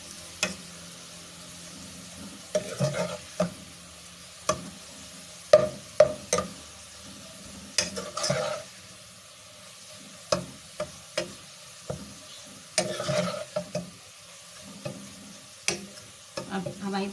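Onions fry in hot oil with the flame switched off, giving a soft steady sizzle broken by repeated scraping stirs of a spoon against the pan.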